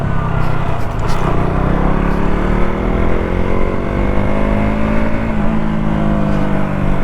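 A car engine drones steadily while driving, loud and close throughout, its pitch gliding slowly up and down with the throttle, with no talk over it.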